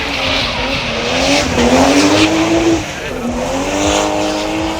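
Several cars drift in tandem at a drift meet, their tires squealing in long rising and falling wails over steady engine roar, loud and close throughout.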